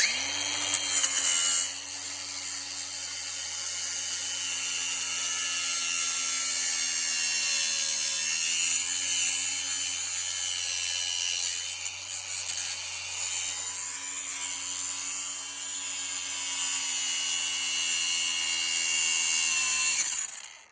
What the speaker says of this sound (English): I just get an angle grinder on them, cut them off when they're like this